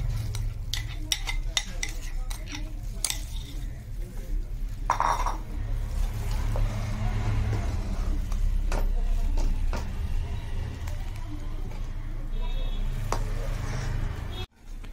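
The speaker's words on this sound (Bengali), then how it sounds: "এখন এইভাবে আমাকে প্রায় 10-15 মিনিট আমাকে এভাবে শুধু নাড়তে হবে।" Mango firni being stirred in a pan as the mango pulp cooks down, with steady scraping and clinking of a spoon against the metal over a low sizzle and hum, continuous and close.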